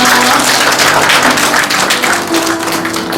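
Steady, full audience applause fills a hall at a Korean legislator's constituency report meeting after a ballet demonstration. The clapping stays loud and continuous throughout, with no speech over it.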